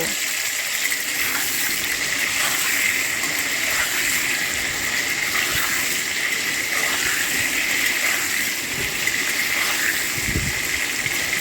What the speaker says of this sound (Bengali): তেল গরম হয়ে গেলে আমি এবার একে একে আলুগুলো ছেড়ে দেব।